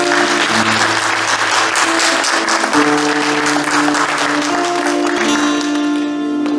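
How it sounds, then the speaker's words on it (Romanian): A full round of applause from an audience at an awards ceremony for a district personality contest, loud and sustained dense clapping over steady musical tones. "pentru emoțiile mele vă rog un rând de aplauze"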